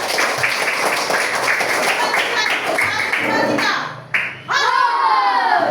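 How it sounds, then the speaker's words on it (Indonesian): Children clap their hands together in a classroom, a burst of loud, mixed claps alongside chatter and a counting voice, then a short pause before noise resumes. "Ya, tepuk tangan dulu."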